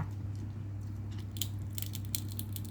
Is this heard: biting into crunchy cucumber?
yes